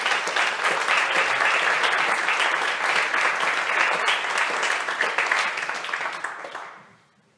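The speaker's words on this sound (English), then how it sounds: "let's give her a round of applause" Audience applause for a piano student at a Beethoven lecture-recital, a dense steady round of clapping from a room of listeners that holds for several seconds, then fades out.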